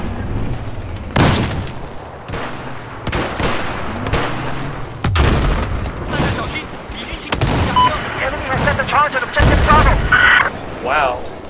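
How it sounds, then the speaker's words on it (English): Rocket explosions in the video game Battlefield 4, several heavy booms and bursts of gunfire in close succession, loud and chaotic, with players talking over the combat. "I just ate like 7 rockets at once."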